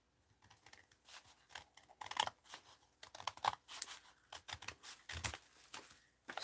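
Paper being cut with scissors for a ledger art journal, short snipping strokes and rustling repeating steadily at close range, fairly quiet with no voices.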